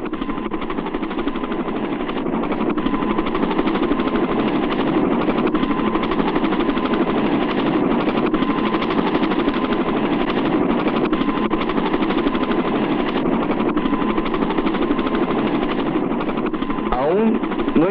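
Helicopters flying in a 1966 Mexican film: a loud, continuous rotor and engine roar that holds steady throughout, with a rapid rhythmic chop and a brief swooping tone near the end.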